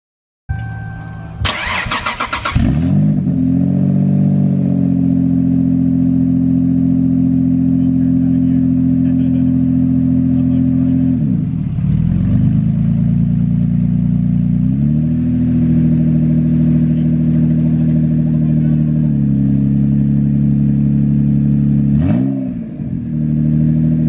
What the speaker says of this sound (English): the obligatory before and after startup and noisiness levels of this vehicle